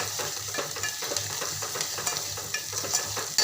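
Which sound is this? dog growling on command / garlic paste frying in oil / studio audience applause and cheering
garlic paste frying in oil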